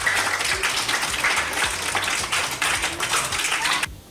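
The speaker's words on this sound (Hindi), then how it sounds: "तो भरपूर तालियों वेलकम कीजिए एक बेहतरीन सिंगर" A studio audience on a TV morning show applauds to welcome a singer, a steady moderate patter of clapping that cuts off abruptly near the end.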